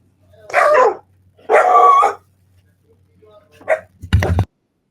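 Several dogs let out a few loud, separate bark bursts in uneven rhythm, with short pauses between and a final sharp, noisy bark at the end; there may be voices mixed in.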